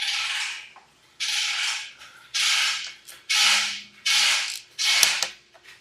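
A torque wrench ratchets while tightening transmission solenoid bolts on a Genesis GV70, in six close, loud bursts of rapid clicking separated by short pauses, with no talking.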